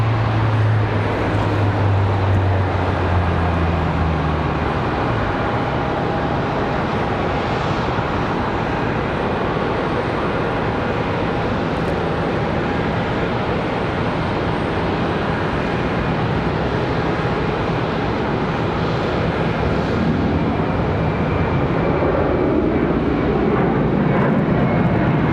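Airplane departing Charlotte Douglas airport, its jet engines a loud, sustained roar with a deep rumble and a steady whine, holding strong throughout while the aircraft climbs away.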